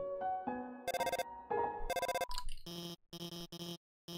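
Phone ringing in the video game Undertale: a bright, electronic chiptune ringtone repeating in short bursts, loud and alone, with several quick beeping pulses near the end.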